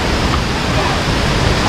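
Waterfall in Rishikesh where people bathe, a steady loud broadband rush of falling water filling the whole stretch without pause, close by.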